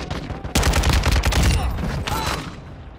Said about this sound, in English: I'm taking effective fire!